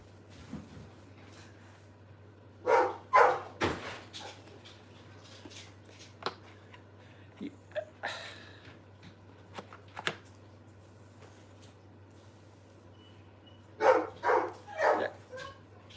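A dog barks in scattered bursts at moderate distance, with yips between, over a steady low hum and quiet room sounds.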